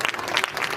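An audience at a Bhagwat Katha religious discourse in Indore claps briefly, a dense, close burst of hands with uneven peaks and a faint murmur of the crowd beneath it.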